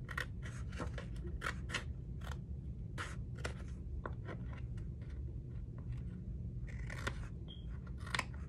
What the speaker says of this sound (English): I'm just gonna trim this a little bit here